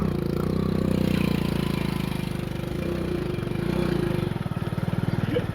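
A steady motor engine chugs close by, its low throbbing rhythm running throughout with no break.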